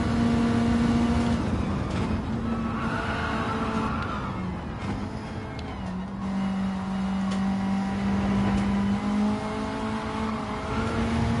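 A slippery, understeering car's engine revs and holds steady pitches in a racing video game, a continuous close drone with rising and falling tones and no talking.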